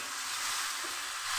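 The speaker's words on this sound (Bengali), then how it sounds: "এবার চিকেন আমি মশলার মধ্যে দিয়ে দিচ্ছি" Boneless chicken added to fried-down masala in a pan gives off a steady sizzling hiss, moderately loud and close, with no voices over it.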